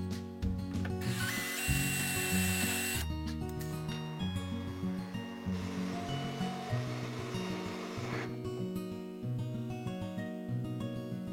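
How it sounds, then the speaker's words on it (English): A power drill with a wood countersink bit bores holes into metal extrusion in several bursts, the motor whirring up and down with bright grinding noise as the bit cuts, fairly faint with no talking. "I had to drill new holes into this extrusion because it didn't have any already, and I just used a wood countersink bit"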